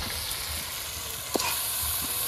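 Meat drops into a pan of biryani masala and sizzles with a steady, close hiss of frying, marked by one brief soft thud partway through; no voices.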